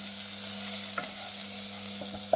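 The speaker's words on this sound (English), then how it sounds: "So I'm just going to put that on just to sweat those down" Chopped onions, garlic and herbs sweat in hot olive oil in a pan, a soft continuous sizzle with a faint steady hum beneath and a few light clicks of a utensil stirring, no voices over it.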